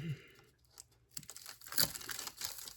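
A cracker for Christmas crack candy is cut along its first row of holes, giving a few quiet, close, crisp crinkling and cracking bursts with short pauses between them.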